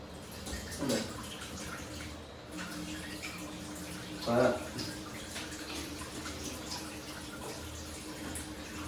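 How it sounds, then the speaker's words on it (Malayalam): Running water from a kitchen tap rushes steadily while dishes are washed, with two brief clatters of crockery and a voice speaking over it. "അപ്പൊ കിച്ചണിൽ കുറച്ച് പരിപാടികളൊക്കെ ഉണ്ട് ഇതൊക്കെ നൈസായിട്ടൊന്ന് കഴുകി വെക്കണം"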